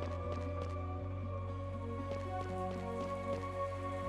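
Steady rain falling in the video game Chained Echoes, a soft continuous patter beneath sustained droning music, with no talking.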